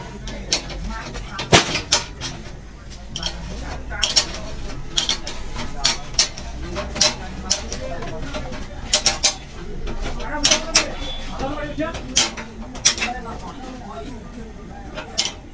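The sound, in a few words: unoiled sewing machine stand mechanism making faint noise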